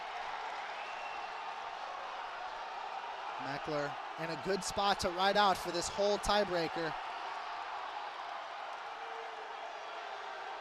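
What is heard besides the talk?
crowd cheering at a college wrestling dual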